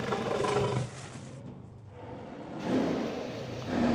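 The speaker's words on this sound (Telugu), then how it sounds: "అప్పుడే లేచిన పెద్ద పులి ఆకలితో ఉండడంలో రామశాస్త్రి మీద దాడికి దిగుతుంది." A big cat roars in long, rough bursts, loud and close, with a brief drop to near quiet between them.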